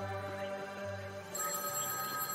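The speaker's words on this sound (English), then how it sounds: "Why is this phone ringing?" A telephone rings in the video game The Artful Escape, a steady, loud electronic ringing tone that carries on through the whole stretch, with no talking over it.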